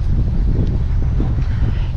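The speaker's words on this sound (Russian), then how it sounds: "Тут очень сильные ветра. Вот вы слышите, в Гаргипе тоже сильные ветра." Strong wind gusts outdoors in Anapa, near the sea, roaring steadily as loud buffeting noise against the microphone without a break, with no speech.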